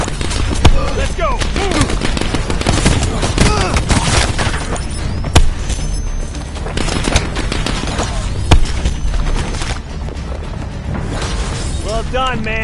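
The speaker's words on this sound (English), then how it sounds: "Now that was a hellstorm. Pretty sweet missile, huh? It's a score streak." Dense, chaotic combat noise from Call of Duty Black Ops 4 during a missile score streak, with rapid gunfire, booming explosions and crashing debris running continuously, while people talk over it.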